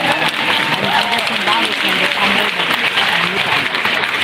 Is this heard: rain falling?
no